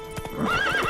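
Roach, the horse in the video game The Witcher, gallops with quick, close hoofbeats, and a brief whinny rises over the clattering steps.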